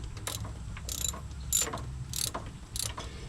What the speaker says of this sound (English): So we're going to be pulling this 7/16 bolt out of this pump